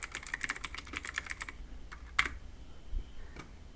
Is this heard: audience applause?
no